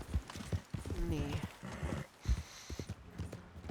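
A horse's hooves clip-clop at a walking pace in Red Dead Redemption 2, with a short whinny partway through, while a person talks over the steady hoofbeats.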